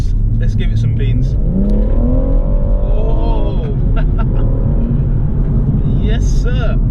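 A BMW M140i Shadow Edition in Sport Plus mode accelerates hard on a national speed limit road, its engine rising in pitch through the revs with a deep in-cabin rumble, while a voice talks briefly over it.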